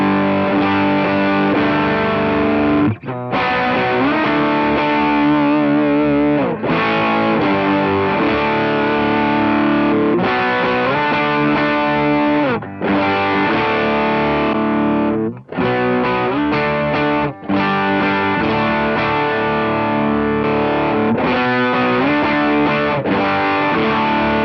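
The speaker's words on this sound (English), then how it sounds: "I found the Walrus Audio Fundamental Drive is really good just for nice, like, beefy overdrive right into it." Electric guitar through a Walrus Audio Fundamental Drive overdrive pedal, giving a thick, beefy, distorted tone with sustained chords and riffs, loud and continuous with a few short breaks between phrases.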